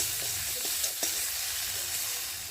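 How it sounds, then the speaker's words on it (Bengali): Kohlrabi leaf paste fries in oil in a pan, its water cooked off, giving a steady close sizzle with a couple of brief scrape-like stirring clicks. "তো দেখো নেড়ে নেড়ে দেখো জলটা শুকিয়ে গেছে আর তেলের উপরে এটা ভালো করে ভাজা ভাজাও হয়ে গেছে"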